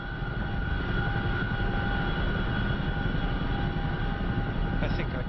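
A steady, droning Boeing CH-47F Chinook helicopter engine hum from a DCS flight simulator, with a constant whine, continuous and fairly loud throughout.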